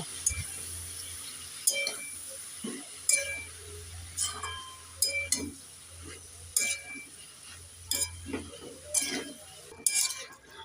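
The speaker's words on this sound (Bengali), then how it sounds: "এরপরে দিয়ে দেব কেটে রাখা বেতো শাক একটু নেড়ে চেড়ে দিয়ে দেব" Bathua greens being stirred with potato and tomato in a pan, a sparse run of metallic clinks and scrapes from a spoon against the pan, fairly close, with quiet background hum.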